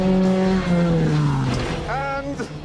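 Dune buggy with a 2.4-litre Chevrolet engine and sequential gearbox racing in the desert, loud engine revs climbing and falling through gear changes, with a voice talking over it.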